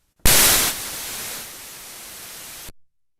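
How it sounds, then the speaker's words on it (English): A burst of white noise starts abruptly, loud at first, then holds at a lower steady level for about two seconds before cutting off. "my seventh sample, which is a white noise sample"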